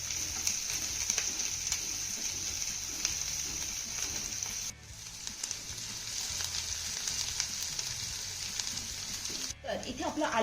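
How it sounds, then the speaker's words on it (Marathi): Grated ginger and garlic sauté in hot oil in a pan, giving a steady, soft sizzle throughout. A brief stir breaks in partway through and again near the end. "हे घातलेलं आलं आणि लसूण आपल्याला अर्धा मिनिट चांगलं परतून घेऊया."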